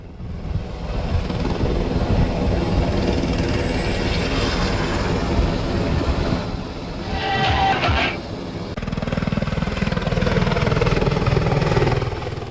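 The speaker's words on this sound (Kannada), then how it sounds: "ಅದನ್ನು ಟೇಕ್ ಆಫ್ ಮಾಡಿ ಮತ್ತೆ ಎಗೇನ್ ರೀಲ್ಯಾಂಡ್ ಮಾಡಿದ್ದಾರೆ ಸುದೀಪ್ ಹೆಲಿಕಾಪ್ಟರ್ ಪೈಲಟ್" Helicopter taking off and re-landing at a helipad, a loud steady rotor and engine roar that dips briefly and swells again, heard close and alone without talk.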